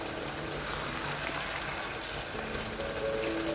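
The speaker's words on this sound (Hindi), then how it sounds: "अब यहाँ पे हम फ्लेम को हाई करेंगे और इसको अब हम भूनेंगे।" Minced keema with dried fenugreek leaves roasting in a pan over high flame, giving a steady soft sizzle and bubbling hiss that holds at a low level throughout.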